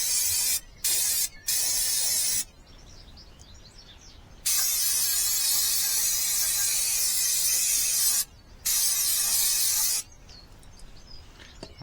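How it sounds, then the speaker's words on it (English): Aerosol spray hissing onto a Lifan motorcycle chain and sprocket, several loud close bursts: two short blasts, a longer one, then two long sustained sprays with brief pauses between. "One more spray."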